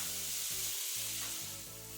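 Fresh tomatoes tipped into a hot pan of garlic and tomato paste set off a loud, steady sizzle with a brief dip in the middle, then frying continues strongly.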